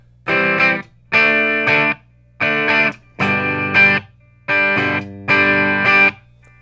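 An electric guitar, a Fesley FDK800 played clean, strums the same chord six times through its 5-position pickup switch, each held about a second and separated by short silences, the tone shifting slightly between strums.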